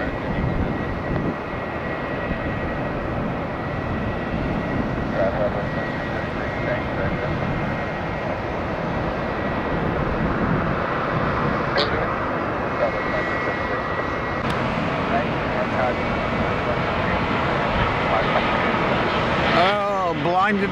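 A Southwest airliner arriving at Tampa airport during the morning rush hour, heard as a steady, loud broadband engine roar that holds for the full twenty seconds without a break.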